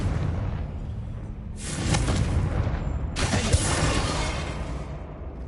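A Confringo fire spell goes off in Hogwarts Legacy, two broad booming blasts with whooshing bursts, each swelling and sustained for over a second, over a low rumbling background.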